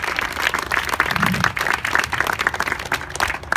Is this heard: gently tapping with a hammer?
no